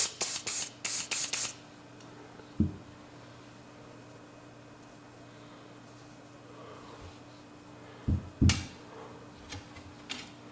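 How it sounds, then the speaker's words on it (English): Several quick hissing bursts of aerosol oil sprayed into a muzzleloader rifle bore at the start, then quiet background hum with a few faint clicks and another short spray near the end. "I'm going to spray it down in there."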